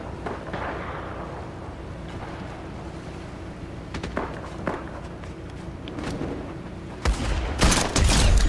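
Gunfire in the video game Fortnite: a few sharp shots around the middle, then a dense, loud burst of rapid fire near the end, over a steady bed of game ambience and movement.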